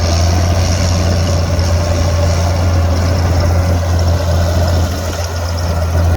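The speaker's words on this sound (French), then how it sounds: "ce tracteur, il fait beaucoup plus de bruit qu'il n'a de puissance." An old farm tractor's engine runs loudly in a field during spring sowing, a deep, steady rumbling drone with a strong low throb, close and unbroken for several seconds with no talk.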